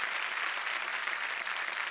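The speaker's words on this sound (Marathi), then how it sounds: "जोरदार टाळ्या झाल्या पाहिजे तुमच्यासाठी" Loud applause from a studio audience on a Marathi TV show, dense continuous clapping filling the whole short stretch with no break.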